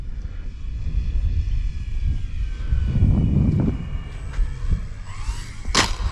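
A small jet engine of an E-Flite F-16 model airplane hums and whines steadily at idle, with a thin high-pitched tone and a brief louder swish near the end.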